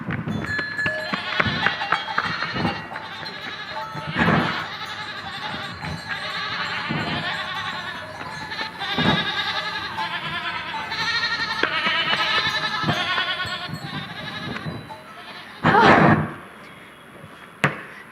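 Goats bleat repeatedly in a stage performance of As You Like It. The cries come in short bursts, moderately close, over a rustling background with occasional thumps.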